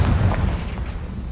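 A Confringo blasting spell in Hogwarts Legacy bursts into a dense, low rumbling explosion, loud and close, with the boom filling the whole brief moment.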